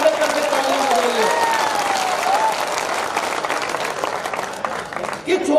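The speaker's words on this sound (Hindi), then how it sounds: "यदि अर्जुन अल्लड़ को मस्ती से, तो एक बार जोरदार दोनों हाथ खड़े करके तालियां बजाइए।" A large crowd at a Hindi comic poetry gathering claps loudly and steadily for several seconds, a dense continuous wash of applause with faint voices mixed in.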